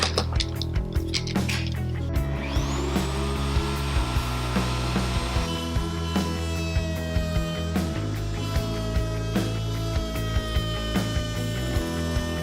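A router bit cuts wood for a folding leaf joint, a loud, close, sustained high whine with a steady repeating pulse and shifting pitch as the cut progresses, no talk.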